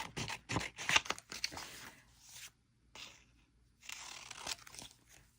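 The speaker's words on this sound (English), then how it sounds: "I love using scissors. I love the sound it makes." Several crisp snips and crunchy paper-cutting sounds in short bursts, with pauses between, close and fairly quiet.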